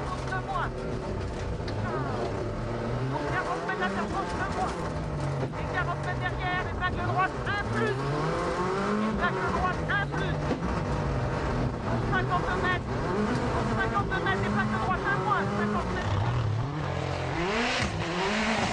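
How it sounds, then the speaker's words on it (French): Mini rally car in group N competition at the Rallye du Touquet, its engine droning and revving steadily throughout with shifting pitch, heard under continuous commentary. "On voit ici Pierre Rocher, le Tourangeau, sur sa Mini."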